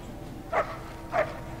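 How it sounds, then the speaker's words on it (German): A dog in the Mad Max video game gives two short barks about half a second apart, moderately close over a quiet, steady background. "Good dog."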